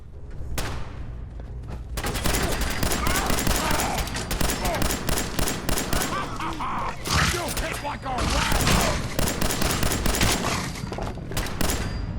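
Gunfire in Fallout 4, with rapid bursts of automatic fire and repeated shots rattling continuously for several seconds, loud and close, while a voice talks underneath.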